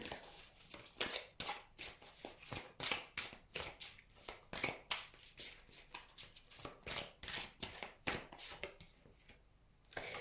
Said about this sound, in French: Alors, qu'est-ce que je vais tirer comme carte ici?